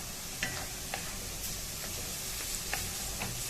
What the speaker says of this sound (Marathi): आता लसूण पण छान भाजून घेतलेला आहे।